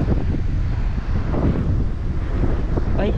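Wind blows steadily across the seaside, a constant heavy rushing buffet on the microphone with slight gusts and a faint hint of surf beneath.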